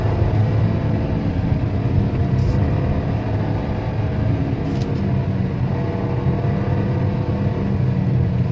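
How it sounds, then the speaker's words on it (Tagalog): Exhaust drone of a Geely Coolray being driven in manual transmission mode, a steady low rumble close to the microphone with slight swells in engine pitch and no voices. "Yung kanyang tambutso, kung naririnig nyo, pakinggan nyo guys."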